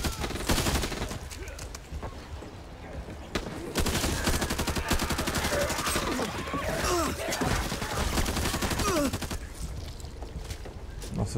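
Dense, continuous gunfire in the zombie shooter Back 4 Blood, with rapid automatic bursts and overlapping shots ringing out loud and close for the whole stretch, mixed with busy game effects.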